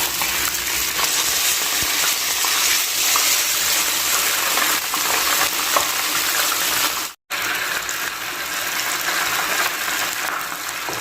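Tilapia fish frying in a pan after being flipped to cook the other side, a steady loud hiss and crackle of hot oil running throughout with one brief silent break, no talk.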